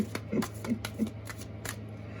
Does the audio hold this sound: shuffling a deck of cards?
yes